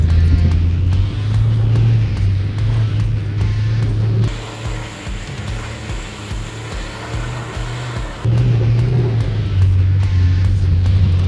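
A Peugeot 406 Safari engine runs at full throttle off-road, a loud droning roar that dips and rises as the car bounces over rough ground, heard from inside the car.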